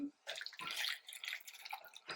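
Water poured from a tap or jug into a plastic cup holding two thumbtacks, filled halfway: a bright splashing pour in a few close bursts with brief pauses, no talking.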